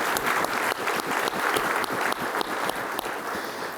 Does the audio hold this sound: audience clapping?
yes